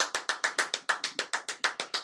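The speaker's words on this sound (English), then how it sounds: "They're clapping for us right now." A small studio audience of only a couple of people claps steadily, about a dozen sharp, evenly spaced claps close up and alone.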